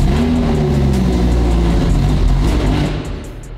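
A Lamborghini Huracan fitted with a loud aftermarket exhaust, its engine running with a deep, throaty, sustained roar close by, holding steady before easing down slightly near the end.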